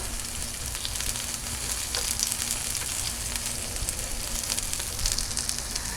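Onions caramelizing in a pan fry with a steady, dense sizzle and crackle, close and continuous with no voices, broken only by small pops.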